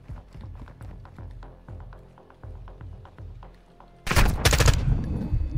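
Rapid gunfire from the video game Call of Duty: Modern Warfare II sounds as a steady run of quick, sharp shots. It then breaks into a loud, dense burst of heavy firing and blasts in the last seconds.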